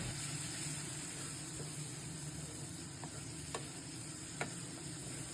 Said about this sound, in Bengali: আমি অল্প অল্প করে জল যোগ করছি যাতে মশলাগুলো না পুড়ে যায়।